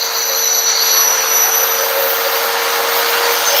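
A DeWalt magnetic base drill bores a 1/4 inch hole through metal sheet on a vehicle repair job, a steady high-pitched whining drone that holds constant and loud throughout with no breaks.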